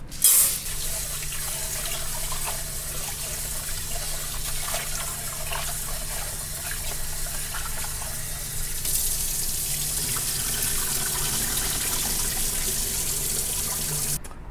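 Rice rinsed under a running kitchen tap for a wagyu donburi: a steady, close rush of water that keeps on without a break and grows a little fuller and brighter partway through. No one speaks.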